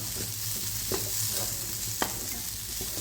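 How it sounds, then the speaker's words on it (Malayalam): Steady dry sizzling of grated coconut roasting in a pan over medium flame, with a couple of sharp stirring scrapes and clicks, close and moderately loud, no voices. "ഒരു മീഡിയം ഫ്ലെയിമിലിട്ട് ഈ തേങ്ങ നന്നായി വറുത്തെടുക്കുക"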